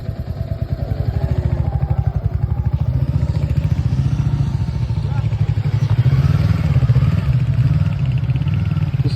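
A motorbike on a road near a railway line runs with a steady, pulsing engine throb that swells slightly louder toward the end as it goes by, close and prominent.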